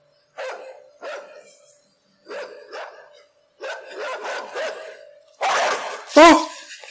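Dog barks in the game Inside, several short bursts in uneven groups building to a louder, more frantic cluster with a high yelp at the end, fairly close.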